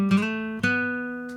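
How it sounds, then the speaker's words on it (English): Plain acoustic guitar with no effects picks a short phrase: a couple of close, clean plucked notes ring out and sustain, with one quick strum near the middle and a faint tail at the end. "Just your standard acoustic guitar."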